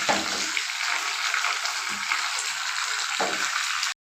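A lump of asafoetida fries in hot oil as a tempering for spicy pepper rasam, giving a steady, close, broadband sizzle that runs unbroken for the whole stretch with no voices.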